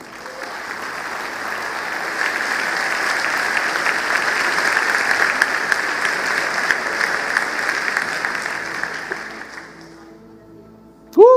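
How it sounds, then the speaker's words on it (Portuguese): A church congregation claps steadily for about ten seconds, loud and sustained, gradually fading, before a brief voice cuts in at the end. "Dê um aplauso ao Senhor"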